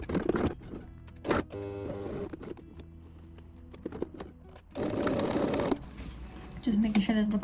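A sewing machine stitches a zipper fly on linen pants in short close bursts, a whirring run of about a second and a few briefer ones, set between stretches of someone talking.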